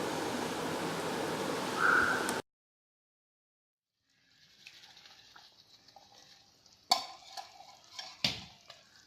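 Palm jaggery is stirred into cooking wheat semolina kesari in a pan: after a brief burst of hiss and a sudden cut to silence, soft scraping and thick stirring sounds return with a few louder knocks, quiet and close.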